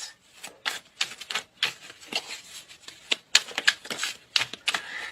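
Tarot cards being shuffled and drawn from the deck at close range, giving a rapid, irregular run of crisp riffling and flicking bursts with no speech over them.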